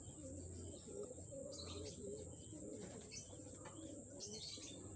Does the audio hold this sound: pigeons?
yes